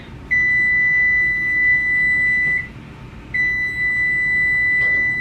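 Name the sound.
oven timer beeping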